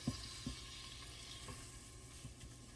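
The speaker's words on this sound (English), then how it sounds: "you can hear it starting to fry" Flour frying in a pan gives a soft continuous sizzle, with a few faint knocks of a utensil stirring it.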